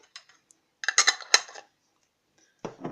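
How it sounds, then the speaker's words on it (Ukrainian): A spoon clinks and scrapes against a bowl while honey and mustard are mixed into a salad dressing, a short burst of close metallic taps, then quiet, then a few more clinks. "трішки отак от розмішаю, щоб мед з гірчицею поєднався"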